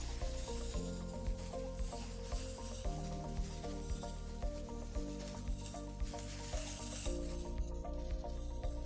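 Onions and mushrooms sizzle steadily in a hibachi-style pan at home while being stirred, a continuous close frying hiss with soft scraping strokes and a low background hum.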